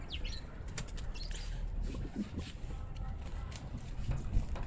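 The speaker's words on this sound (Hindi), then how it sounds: "तो इस तरह उड़ाया मैंने कबूतर।" Gola pigeons in Karachi taking flight, with soft rapid bursts of wing flapping, faint chirps and a low ambient rumble throughout.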